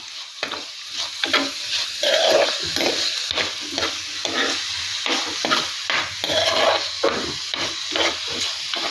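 Masala sizzles and is stirred in a pan for Kerala-style chili mackerel fish curry, a close, steady frying hiss broken by repeated rhythmic scraping strokes of the spoon throughout.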